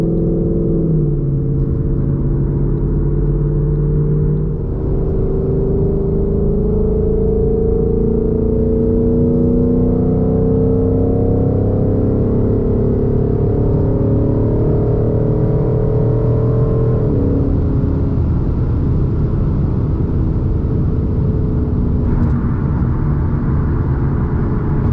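A 2020 Mustang GT with a Borla exhaust, driven at night and heard from inside: a continuous loud, deep engine drone with rising and falling pitch as it accelerates, no talking.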